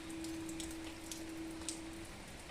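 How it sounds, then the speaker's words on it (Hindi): Steady rain falls outdoors during a cold morning in India, a soft continuous patter with scattered drops landing nearby, alone and fairly quiet with a faint steady tone underneath. "और अच्छा खासा बारिश हो रहा है।"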